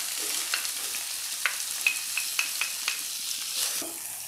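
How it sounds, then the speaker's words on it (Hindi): Onions fry in a pan with two spoonfuls of cooking oil, giving a steady bright sizzle and crackle with occasional stirring scrapes and spatula taps, close and continuous without speech. "2 खाने के चम्मच कुकिंग ऑयल मैंने पैन में डाल लिया है, और अब इसके अंदर प्याज को कुछ देर पकाऊंगी।"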